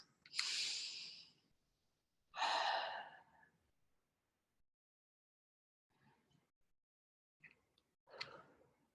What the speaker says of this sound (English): just take a few breaths in and out